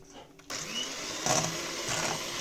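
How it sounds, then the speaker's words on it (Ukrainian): An electric hand mixer starts up after a brief pause and whirs steadily while whipping sour cream and sugar into a cream, a faint continuous motor hum close by. "Беру міксер і збиваю крем."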